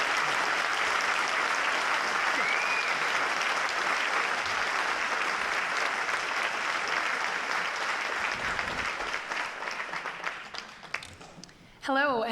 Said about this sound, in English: I'd like you to join with me now as I hand over to Elizabeth in a round of applause